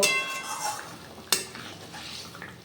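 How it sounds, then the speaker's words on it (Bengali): Fried rohu fish pieces going into a boiling curry for a katla macher jhol, with a soft bubbling hiss, a sharp utensil clank near the middle, and light scraping stirs afterward. "ভেজে রাখা মাছগুলো সব দিয়ে নেড়ে চেড়ে এটাকে আমি নামিয়ে নেব"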